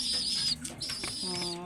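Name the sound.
pigeon cooing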